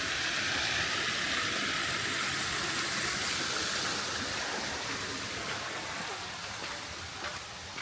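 Steady, dense rush of a waterfall into a resort's lower pool in Ubud, Bali, a constant broadband roar that eases slightly toward the end, with no voices.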